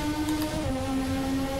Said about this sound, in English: You really have to flip the throttle to keep the revs up.